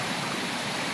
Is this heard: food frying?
no